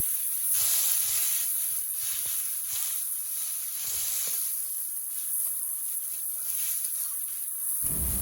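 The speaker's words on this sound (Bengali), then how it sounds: "এবারে দিয়ে দিচ্ছি পেঁয়াজ কুচি। পেঁয়াজটা একটু লাল লাল করে ভেজে নেব।" Chopped onion frying in oil with dried red chilies, bay leaf and whole cumin, a constant bright hiss broken by soft, irregular stirring scrapes.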